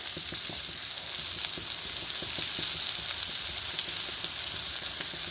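Raisins and dal frying in oil in a kadai, a steady close sizzle with crackling pops throughout, no talk.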